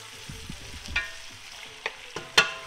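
A simmering sauce for Jamaican escovitch-style red snapper is stirred in a pan, with a few soft scrapes and clinks of the spoon over a quiet, low bubbling background.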